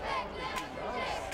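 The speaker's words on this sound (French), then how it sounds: "Sur son passage, les cris des admirateurs se mêlent aux huées." A crowd of admirers shouting mixed with boos as Marine Le Pen passes in Calais, a dense, steady roar of voices heard briefly from nearby.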